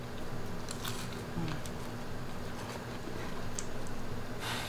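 Dried pollock (myeongtae), thick and chewy, is bitten and chewed close to the mic, with faint crunchy ticks over a steady background hiss and no talking.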